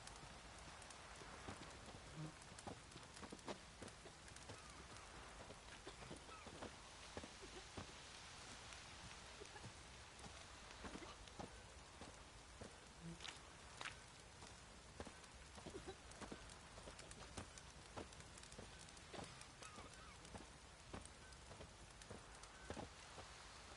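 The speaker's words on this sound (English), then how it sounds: "Proper downpour, this is." Heavy rain pours in The Witcher 3, a dense steady hiss of drops hitting the ground, with scattered horse hoof clops and sharp drips over it and no talking.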